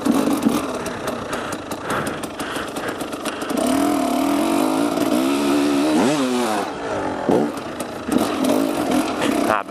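A 300 enduro motorcycle revs hard climbing a hill, its two-stroke engine snarling loudly and close, with pitch rising and falling as the throttle is twisted and released.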